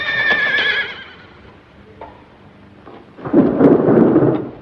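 A horse gives a loud, descending whinny, followed moments later by a deep, rolling rumble of thunder as a storm approaches.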